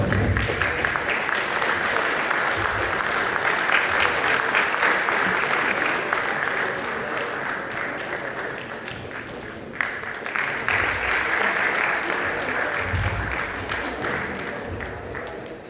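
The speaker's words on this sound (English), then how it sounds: "Audience, please applaud." Sustained, loud applause from a large audience at an annual gymkhana award ceremony, a thick wash of clapping that dips slightly midway and then swells again, continuing throughout.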